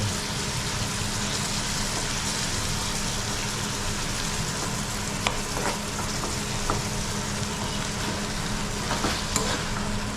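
Oysters dropped into hot oil fry with a steady, dense sizzle, with a few brief clinks of stirring.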